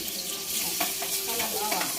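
Onions and garlic frying in a pan for a chicken and sweet potato dish, a steady close sizzle with bursts of crackle and a few stirring scrapes, no voices.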